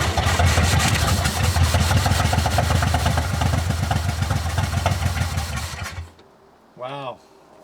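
A Flathead Ford engine that sat for 55 years, with an untouched carburetor, fires and runs loudly and roughly for several seconds before cutting out, followed by a brief, tonal vocal exclamation.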